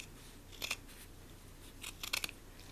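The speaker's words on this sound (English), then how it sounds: "And just carefully cutting this off." Scissors cut the ribbing off a sweatshirt in two short bursts of crisp snipping close by, each a few quick clicks, against a quiet room hum.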